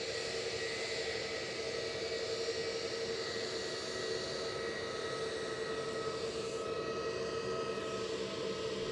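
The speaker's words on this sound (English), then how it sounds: "So I've got another EasyJet strolling past my position. That's what you can hear." An EasyJet airliner taxis past at Edinburgh Airport, its engines giving a steady, continuous whine with a constant tonal hum. The noise holds level throughout at a moderate distance.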